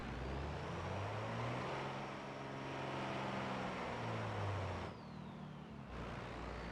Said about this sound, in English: Oh, there is a car coming.